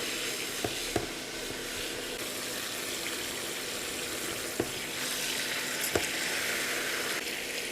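A beef roast searing in a deep pan, a steady close sizzle running throughout with a few sharp knocks as the meat is turned on all sides, no talking.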